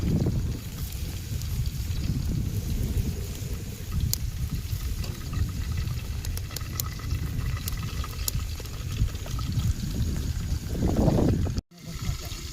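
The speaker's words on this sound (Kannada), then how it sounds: "ಗಾಳಿ ಬಿಡ್ತಲ್ಲ ಈಗ" Outdoor wind blows in a steady rough rumble at a rainy cooking spot, with gusty buffeting against the microphone throughout and a brief dropout near the end.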